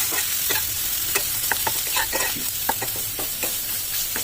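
Garlic paste with ginger fries in a pan for jackfruit kalia, a steady sizzle broken by repeated sharp spatula scrapes and taps at an irregular rhythm, close and fairly loud with no voices.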